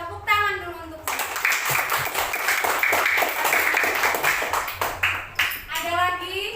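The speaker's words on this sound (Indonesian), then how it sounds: "Tepuk tangan dulu untuk saya." Children in a classroom clapping together, a steady burst of hand claps lasting several seconds between short stretches of talk.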